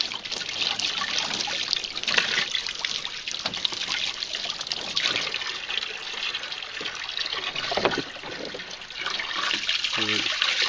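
Water trickles and splashes over an ATV radiator coated with Neverwet, a continuous irregular dribbling with brief louder spurts, close and moderately loud, with no talk.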